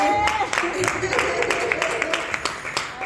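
Church congregation clapping at a sermon, a dense patter of many hands with scattered sharper claps, steady and moderately loud, with a voice speaking faintly underneath.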